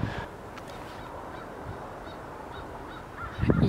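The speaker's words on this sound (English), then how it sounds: "Yes, birds." Geese honk intermittently at a distance, faint calls scattered over a low outdoor background, ending with a louder rustle close by.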